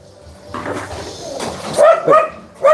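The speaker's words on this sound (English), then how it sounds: "this little wiener dog here" A small, old-looking dachshund gives a few sharp, close barks and yips, ending in a loud bark, outdoors at a home in the Philippines.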